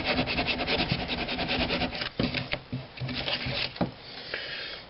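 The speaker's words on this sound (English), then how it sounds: "as you carve and just tear at the foam" Foam is carved and torn by hand to shape fake rocks, giving continuous close scraping and rubbing with several sharper tearing bursts, alone without talk.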